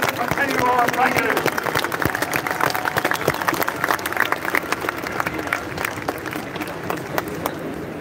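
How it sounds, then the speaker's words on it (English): A protest crowd in Dublin over mica and pyrite house damage claps and cheers, a dense, steady patter of applause with scattered shouts that continues for several seconds, with a voice audible over it. "give yourselves all a big cheer and a big pat on the back"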